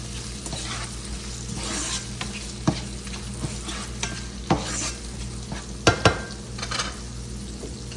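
Capsicum and onion fry lightly in a pan with a continuous close sizzle, and spatula scrapes and clinks against the pan are scattered throughout.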